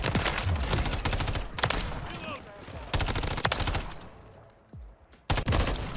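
Rapid video game gunfire in a Call of Duty style match, bursts of automatic shots crackling densely for several seconds with brief pauses and a final short burst, fairly loud and close.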